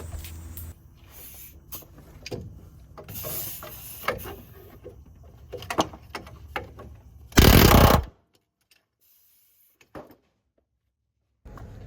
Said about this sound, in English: I think an air hammer will work the best.